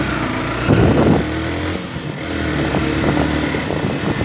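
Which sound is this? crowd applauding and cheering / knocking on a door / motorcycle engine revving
motorcycle engine revving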